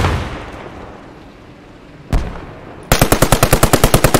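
Machine gun fire in the World War II shooter game Post Scriptum: a single sharp shot, then a fast rhythmic burst of about a dozen loud, close rounds.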